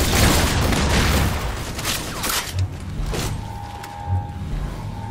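Rapid gunfire and explosive booms in the video game Halo 4 on Legendary difficulty, loud and dense at first, then thinning into scattered shots and thuds.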